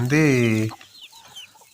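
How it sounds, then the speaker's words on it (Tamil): A native country chicken lets out one loud, drawn-out call close by, followed by soft scattered chirps and clucks. "நாட்டுக்கோழி, ஒரிஜினல் நாட்டுக்கோழி."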